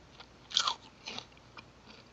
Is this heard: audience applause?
no